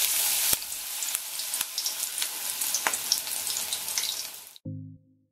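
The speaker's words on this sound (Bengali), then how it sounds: "আমি এক পাশ ভেজে নেওয়ার পর উল্টিয়ে দিয়ে এবার অপর পাশটাও ভেজে নিচ্ছি" Coriander leaves dipped in gram flour batter fry in hot oil with a steady, close, crackling sizzle and a few sharper pops, then the sizzle cuts off abruptly and a brief tonal sound follows.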